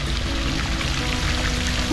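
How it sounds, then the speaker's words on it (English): A small indoor fountain at the historic West Baden hotel splashes continuously, a dense, steady wash of falling water heard up close with no pauses. "Beautiful little fountain over here."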